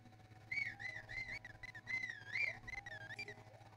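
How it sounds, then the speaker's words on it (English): A person whistles a wavering, melodic tune in a series of short rising and falling phrases, fairly close and clear, with a steady low hum underneath. "Can I whistle?"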